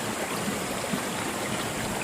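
The Tapuacan river flows with a steady, broad rush of water, an even wash of noise that holds constant and moderately quiet from start to end, with no voices over it.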